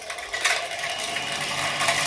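A repaired chicken plucking machine is test-run, giving a steady, dense mechanical whir and rattle that holds at an even loudness throughout, close by with no voices.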